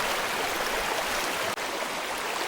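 A fast-running river about knee deep rushes in a steady, dense wash of water noise filling the whole stretch, close and unbroken, with no voices.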